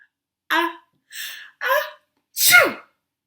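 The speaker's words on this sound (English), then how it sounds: "Achoo! Oh, I sneezed and I caught it and I'm going to bin it." One person sneezes four times in quick succession, each burst sharp and close with short silences between, the last one the loudest and longest.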